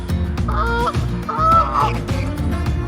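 Canada geese honk loudly and close in a park, several harsh calls in quick bursts as they squabble with swans, with no voices over them.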